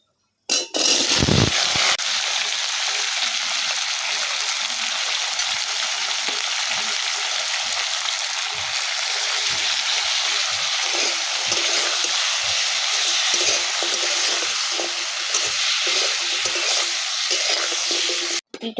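Panch phoron and dried red chillies crackle in hot oil for a pumpkin, eggplant and potato curry, a loud, unbroken hiss of sizzling that runs steadily throughout.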